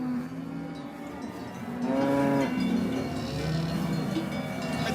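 Cows being herded in at a Swiss village farm in Schwellbrunn: several cattle moo loudly and repeatedly, long low overlapping calls over a steady background, with cowbells faintly clanking.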